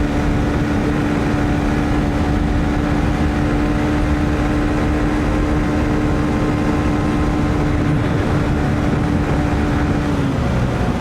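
Honda CB125F motorcycle engine held at wide open throttle in fourth gear, a loud steady drone with a constant high whine and wind rush throughout, easing slightly near the end.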